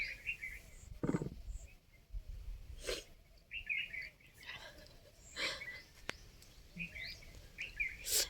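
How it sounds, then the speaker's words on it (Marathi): Several short bulbul calls ring out at intervals in a mango orchard, bright chirpy phrases repeating every second or two at moderate distance. "आणि पक्षी बघा बुलबुल पण आलेत फळं खायला"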